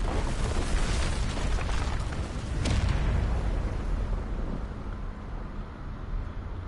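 A crystal chamber crumbling apart in Final Fantasy XVI: a loud, sustained rumbling roar of destruction with a sharp crash partway through, then a slowly fading low rumble.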